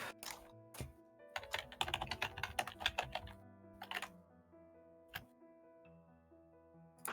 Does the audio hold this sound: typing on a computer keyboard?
yes